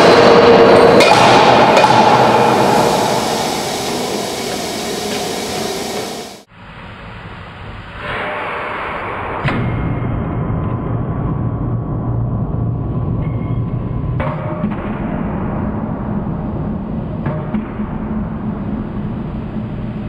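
Power hammer press crushing a steel bolt: a loud mechanical roar and clatter at first, then a sudden cut, followed by a steady lower hydraulic hum with occasional sharp metallic knocks.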